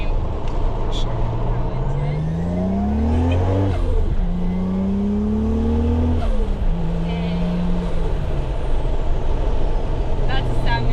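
A Lexus IS300 fitted with a 1JZ engine runs loudly and continuously, its revs rising and falling in long sweeping pitch changes while people talk over it.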